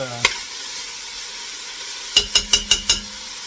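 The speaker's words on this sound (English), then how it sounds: "this is going to take a good bit of time, so just keep stirring" Lentils cooking in oil in a pot for Lebanese mjadra, with a faint background sizzle, a single stir at the start, then a quick run of five sharp scraping strokes near the end.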